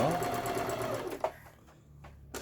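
A repaired Brother XL5500 home sewing machine, fixed after the needle had scratched the hook race, stitches with a smooth, quiet hum that fades within about a second and a half, followed by near silence and a brief click at the end.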